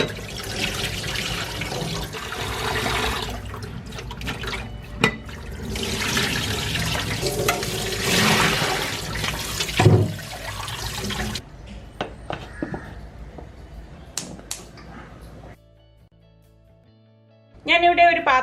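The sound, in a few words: washing and draining cut tapioca under water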